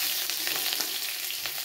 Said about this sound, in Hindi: इसमें अब आधा प्याज डाल देंगे। इसे गोल्डन ब्राउन होने तक भून लेंगे।